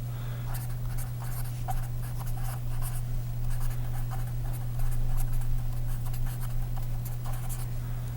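Marker or chalk writing on a board during a lecture on wireless Ethernet networking, a run of quick close scratchy strokes in an irregular rhythm over a steady low electrical hum, without speech.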